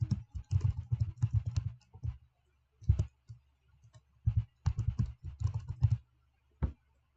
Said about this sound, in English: click somewhere on your screen and then just type anything you want